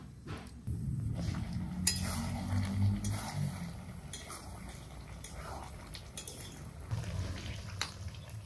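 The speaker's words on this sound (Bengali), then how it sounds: "এখন সব কিছু কড়াইতে দেব।" Ingredients for a mutton head curry, including garlic cloves and tomato, are tipped into a wok and stirred, soft clinks and scrapes of utensils on metal with a low bubbling undertone.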